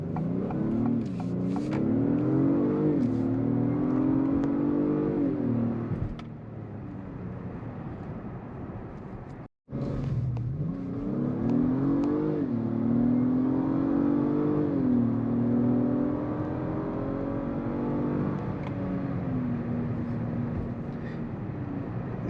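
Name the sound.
2022 Acura MDX Type S SUV engine accelerating while driving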